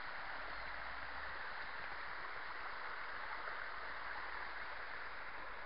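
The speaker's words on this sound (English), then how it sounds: "The water just trickles down it there." Water trickles down a gradual, rocky waterfall slope outdoors, a soft, steady, continuous wash with no other sounds.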